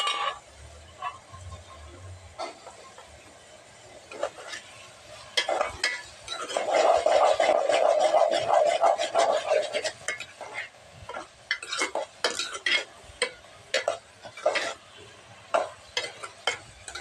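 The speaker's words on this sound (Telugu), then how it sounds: "ఇప్పుడు ఇవి కూడా ఒక 2 నిమిషాలు అయితే ఫ్రై అవ్వాలి" Tomato pieces frying in a pan while a spoon stirs them, soft sizzling with scattered scraping clinks against the pan, louder stirring in the middle, fairly quiet and close.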